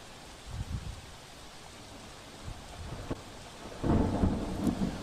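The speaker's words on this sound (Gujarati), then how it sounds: "ધોધમાર વરસાદથી સુરત પાણી પાણી થઈ ગયું છે" Heavy pre-monsoon rain falls in Surat under a thunderstorm, a steady wash of rain broken by low rumbles of thunder, with a louder roll building near the end and no voices.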